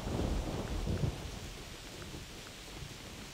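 Rolling thunder in the hunting video game theHunter Classic rumbles low and heavy, strongest in the first second, then eases into a steady wash of rain and soft storm noise.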